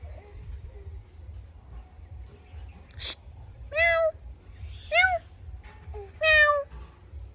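A cat meows three times in close succession, each call clear and fairly loud against a low steady hum indoors, with a brief sharp click just before the first meow.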